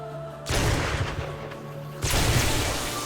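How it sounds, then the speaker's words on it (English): A shotgun fires at zombies in 7 Days to Die, two heavy loud blasts about one and a half seconds apart, each with a booming tail, close and dominant with no talk over them. "Yeah, shotgun's doing good work here."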